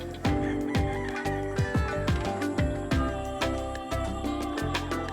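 A chicken clucks close by in a quick series of short, sharp calls that come in an uneven rhythm, with no talking over them.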